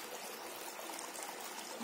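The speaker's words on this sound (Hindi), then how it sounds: "इसमें वहाँ से पानी एक में आ रहा है फिर दूसरे में फिर तीसरे में फिर चौथे में" Water trickles and splashes steadily down through a homemade cement tiered fountain, flowing from one basin to the next in a soft, continuous, close-up wash of sound.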